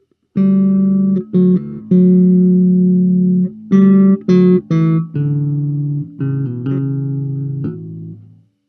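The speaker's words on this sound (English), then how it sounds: "So here is the active tone with the way I've dialed in the EQ." A clean, round bass guitar in active tone with EQ, top end reduced, plays a short riff of sustained and clipped notes, warm and full in the low end, with no talking.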